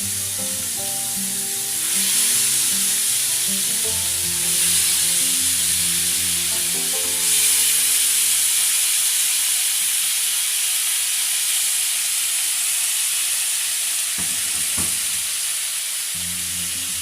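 Chicken malai boti on skewers sizzles on an oiled tawa: a loud, continuous close frying hiss with a faint low hum underneath and a few brief clatters near the end.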